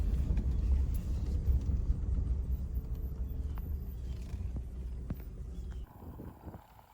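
A truck rumbles low and steady as it rolls into a parking spot on a future garage site, engine noise continuous and close, then dropping off abruptly near the end to a quieter idle.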